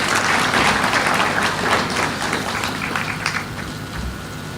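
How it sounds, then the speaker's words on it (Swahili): A crowd at a regional summit claps for a visiting governor, a continuous wash of hand claps at moderate volume that slowly eases off, with no clear talk over it. "Mkaribishe kwa makofi"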